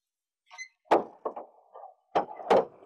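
Door being closed indoors, with a few sharp wooden knocks and thuds, including a firm shut, spaced out over a couple of seconds and heard close and fairly loud.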